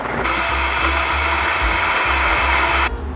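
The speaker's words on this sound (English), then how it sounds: "we're going to blend this baby until it's completely creamy" A blender runs steadily, whirring maple syrup with salt and other ingredients into a creamy sauce for a vegan apple salad. The loud, continuous motor starts and cuts off abruptly near the end, and no one speaks.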